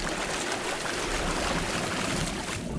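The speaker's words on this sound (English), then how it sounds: "Or it makes a weird watery sound." Steady, dense watery rushing and trickling in the video game No Man's Sky, a continuous wash of sound without breaks or distinct splashes.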